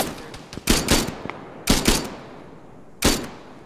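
Gunfire in the video game Arma 3, rifle bursts with tracer rounds: three loud, sharp volleys of rapid shots spaced about a second apart, each ringing out and fading over a steady low background.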